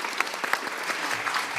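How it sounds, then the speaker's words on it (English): Audience applause rings out for the speakers at an international forum on migration statistics, a steady patter of many hands clapping in a hall for well over a second. "I want you to clap one more time for the fantastic speakers today"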